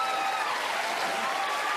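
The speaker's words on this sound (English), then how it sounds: "And they cheer." A town hall audience cheers and applauds, a dense steady wash of clapping and crowd noise that runs loud and unbroken before cutting off abruptly.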